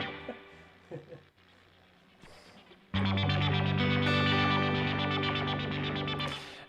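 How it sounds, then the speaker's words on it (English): Guitar through a Boss SY-1 synth pedal in arpeggiator mode: after a few quiet plucked notes and faint talk, a loud, dense synth arpeggio enters and holds steady, thick with effect and sustain. "it's a Boss SY1 synth pedal"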